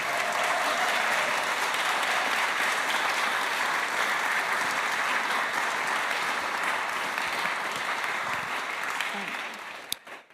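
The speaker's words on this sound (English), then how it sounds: "Can we have just one more round of applause for Michael?" Audience applause fills the space after a concert, a dense, steady wash of clapping that holds loud for about ten seconds before fading out at the end.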